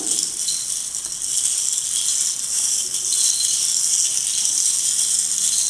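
A homemade rain stick percussion toy being turned gives off a steady, dense hiss of trickling rattling fill, near and continuous throughout with no voices.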